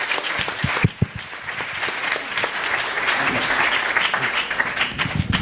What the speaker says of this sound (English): I'd like to applaud these colleagues of mine.